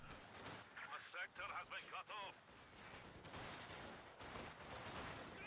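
Artillery and small-arms fire rumble through a battle in a real-time strategy video game, rapid distant bursts and booms under a fast-talking commentator's voice, faint overall.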